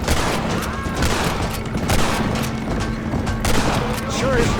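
Several sharp gunshots crack in Red Dead Redemption 1 on PC, spaced a second or two apart amid ongoing gameplay sound, while someone talks over them.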